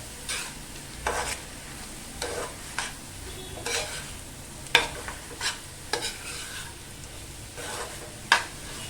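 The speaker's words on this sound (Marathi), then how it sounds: "आता छान अशी परतून घेऊया" Kurdu greens, a monsoon wild leafy vegetable with grated fresh coconut, being stirred in a pan, giving scattered scraping strokes of a spatula over a faint steady sizzle, close and moderately quiet with no talking.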